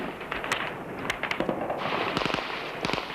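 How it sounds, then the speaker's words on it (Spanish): Rapid irregular cracks and pops of Kalashnikov bursts, howitzer and cannon fire during the 1993 assault on the Russian parliament, sharp bursts clustered together at a distance with a rumbling background. "Nadie escatimó municiones, disparos de obús, cañonazos, ráfagas de Kalashnikov."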